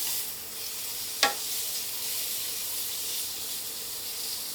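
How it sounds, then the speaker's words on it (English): Peppers being stir-fried for a light char give a steady close sizzle and hiss, with one brief sharp clink or scrape early on and no voices. "let's get our peppers in there. Same process. We're going to try and get a little char on these."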